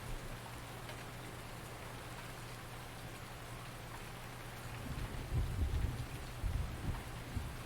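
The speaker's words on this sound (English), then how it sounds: "Can't say I've ever seen lightning, but I'm hearing the thunder." Steady rain patters throughout in the video game Farming Simulator 19, and a low rolling rumble of thunder swells in the second half, moderately distant.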